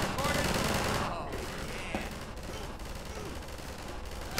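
Sustained Half-Life 2 gunfire, a dense rattling barrage heaviest at the start that thins into scattered shots under a noisy, roaring combat background.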